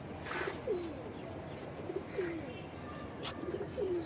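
Breeding racer pigeons coo in a cage, several soft, low rolling coos repeating every second or so at close range, with a faint background hiss.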